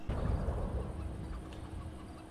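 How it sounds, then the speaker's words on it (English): Chickens cluck in the CS:GO video game map, a fairly quiet, steady background of fowl clucking and game ambience with no talk. "These fucking chickens need to shut up."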